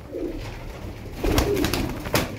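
Pigeons coo softly nearby at a pigeon flying competition, low throaty calls over outdoor background noise, with a few sharper knocks and rustles.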